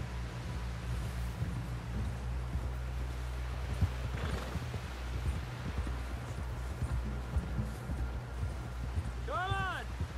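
Horse hooves clip-clop at a steady trot beneath a low drone, with a short horse whinny toward the end, in the video game Red Dead Redemption 2.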